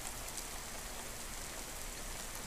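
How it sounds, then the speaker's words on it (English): Steady rain in the video game Serial Sniper, a soft even hiss of falling drops throughout, faint and alone. "You could like blend in with a tree since it's raining."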